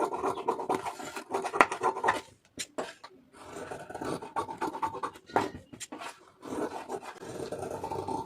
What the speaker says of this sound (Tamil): நீங்கள் மார்க் பண்ணியிருக்க அளவுக்கு அப்படியே அதை வந்து கட் பண்ணிக்கிறங்க